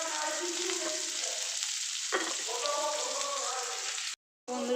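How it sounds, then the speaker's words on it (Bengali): Chopped onions frying in hot oil in a pan for a poppy-seed chicken dish, a steady close sizzle with soft stirring scrapes and a brief break near the end. "এবার পেঁয়াজটা লাল লাল করে ভেজে নেব।"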